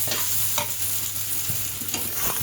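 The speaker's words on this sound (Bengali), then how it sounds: "এটা কিন্তু আমরা লো হিটে ফ্রাই করব" Spicy chow mein stirred and fried over low heat, with a steady soft sizzle and a few scraping stir strokes of a utensil against the pan, close and alone without speech.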